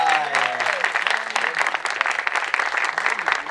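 Crowd at a freestyle rap battle cypher breaking into loud, dense applause and cheering, with voices shouting over the clapping from start to finish.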